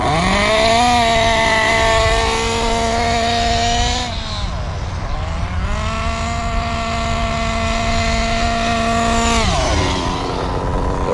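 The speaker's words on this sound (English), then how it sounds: "Letting the engine get up to full" Kyosho Inferno NEO 3.0 nitro RC car engine running on Morgan fuel with 12% oil, a loud, buzzing two-stroke drone that holds steady, dips and revs back up twice, close and alone.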